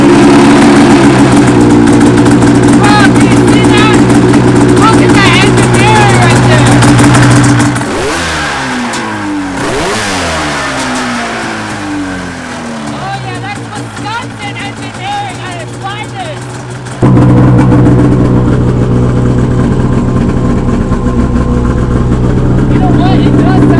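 A Mazda RX-7 rotary engine with a near-straight-pipe exhaust runs loud and close, revving and dropping in pitch, easing off to a quieter stretch midway before surging back to full volume, with people talking over it.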